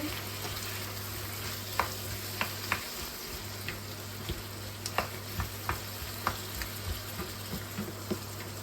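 Chicken hearts sizzle in a pan with sugar and apple while being stirred, a constant frying hiss broken by regular clicks and scrapes of the utensil against the pan, close by, with a low steady hum underneath.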